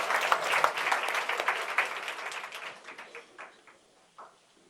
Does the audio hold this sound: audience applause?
yes